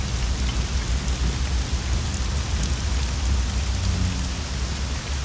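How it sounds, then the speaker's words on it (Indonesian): Steady gentle rain falls in a city setting, a continuous close hiss of drops on surfaces with a soft low rumble underneath, no voices. "suara rintik-rintik hujannya itu menenangkan suasana."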